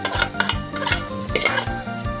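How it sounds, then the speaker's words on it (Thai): Sliced shallots go into a pot or bowl while Isan freshwater algae laab is being made, with close clattering knocks and scrapes of a utensil against the dish in an irregular rhythm, no talking. "ใส่หอมก่อนครับสิว่าเฮาหั่นเดี๋ยวเนาะครับเนาะ หอม ใส่ลงไปครับ"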